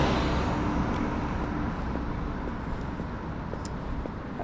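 A Mercedes taxi passes along a Swedish road, a continuous moderate roadway rumble with faint wind, fairly even in level and heard alone without speech.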